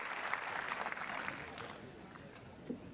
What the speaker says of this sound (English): And a warm applause as Gasquet goes 5-4 up